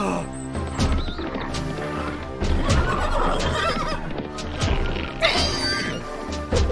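A horse whinnies loudly and close, with a shrill rising call, amid hoof clatter and a couple of crashing impacts.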